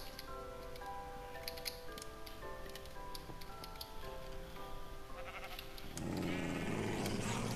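Sheep bleat faintly several times in Minecraft over a steady ticking and soft ambient background, followed by a louder burst of broadband noise near the end.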